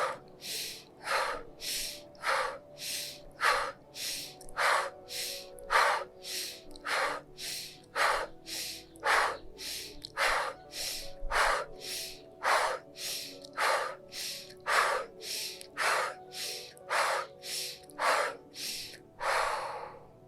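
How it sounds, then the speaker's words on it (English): A person does a breathing exercise, sharply inhaling through the nose and exhaling through the mouth in about twenty steady, evenly paced rounds, heard close and without talk. "The inhale will be through the nose and the exhale out through the mouth."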